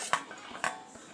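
A metal cooking pot is set down on a kitchen stove to temper an egg gravy. It gives two sharp clanks and a few lighter taps, faint and close, with no talking.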